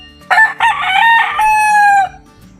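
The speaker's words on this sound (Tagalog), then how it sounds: "Malaki kasing manok to." A Kelso gamecock crows nearby, one loud, drawn-out call with a choppy start and a long falling finish lasting under two seconds.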